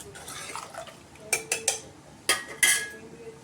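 A spoon mixes salt and turmeric into semolina idli batter in a metal pot, with scattered scraping and several sharp metallic clinks close by.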